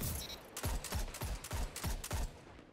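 Rapid gunfire in a Destiny 2 multiplayer match, a steady burst of roughly eight evenly spaced shots, loud and close, each with a punchy low thump and bright crack.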